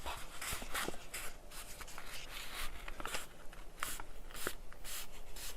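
Paper folded and creased for a lapbook, giving close, continuous rustling and crinkling with frequent short crisp snaps of the sheet.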